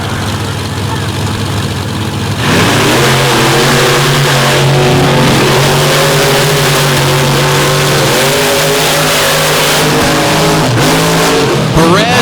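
Monster trucks roar down a very muddy front stretch at Lebanon Valley Speedway in a drag race, a loud idle jumping into sustained revving engines with rising and falling pitch, with commentary talking over it.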